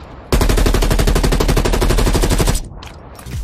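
Rapid automatic gunfire from the video game Call of Duty Cold War, a loud, close, continuous burst of about two seconds with an audio cue warning that the magazine is nearly empty, then a short tail and a faint click.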